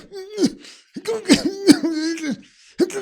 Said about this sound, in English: Yeah, you're gonna start coughing again.